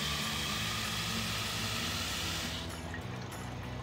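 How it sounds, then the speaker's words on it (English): Water runs steadily into an empty pump sprayer as a continuous broadband rush, filling it halfway, then drops slightly in brightness near the end with no voices present. "fill your sprayer halfway up with water"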